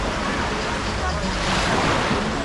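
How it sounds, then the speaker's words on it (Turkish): Dense, steady wash of sea waves breaking on the beach at Ölüdeniz, loud and close, with wind buffeting the microphone throughout. "O da bayağı dalga var."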